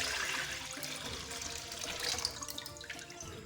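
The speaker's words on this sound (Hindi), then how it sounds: "इसमें हम डालेंगे पानी।" Water poured into an empty kadhai for boiling noodles, a close, steady splashing gush that swells slightly near the end and runs without pause, no voices.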